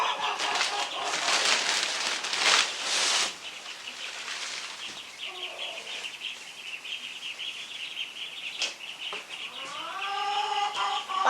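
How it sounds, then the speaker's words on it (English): Backyard chickens cluck and call loudly near ducklings kept on bedding, with clucks and squawks running throughout, short bursts of flapping and calls rising toward the end, and no talking. "the chickens are being loud this morning"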